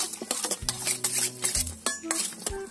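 Sea grape kinilaw being tossed with a pinch of salt in a bowl, a quick run of close clinks and scrapes of a utensil against the dish with no talk.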